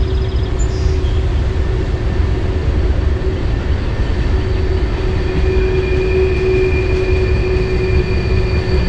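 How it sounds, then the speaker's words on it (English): A steady, loud rumble of a train rolling down a mountainside railway in the Appalachians, with faint metallic squeals and a constant hum throughout. "Train going down the mountainside through there."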